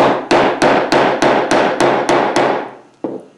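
Chisel struck repeatedly with a mallet to cut curly maple at a scribe line, nine sharp, loud, evenly spaced wooden knocks, each ringing briefly before the next, then a short pause and one final blow.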